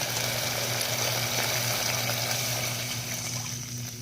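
Water or broth pouring into a cooking pot for misua with sardines, a steady close rushing stream over a constant background hum, tapering slightly toward the end.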